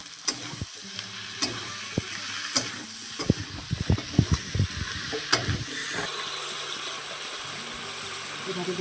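Fried pointed gourd and other vegetables are stirred into a spice paste in a hot pan, giving loud sizzling with scraping spoon strokes and clatter, then a steady, brighter hiss takes over toward the end.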